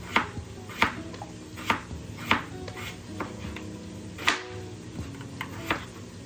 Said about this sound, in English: we're cutting the potato in half, and then we're taking each half and we're cutting that in half this way